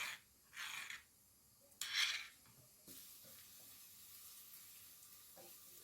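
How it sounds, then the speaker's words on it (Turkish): Onions sautéing in a pan for green lentil cooking, a soft steady sizzle with two brief louder bursts of frying early on, then a continuous low hiss at a moderate distance. "Soğan da kavruluyor."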